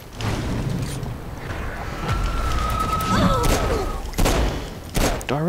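Gunfire in the video game Saints Row 4, a burst of shots and booms aimed at a target amid game effects, with loud thuds and crashes near the end.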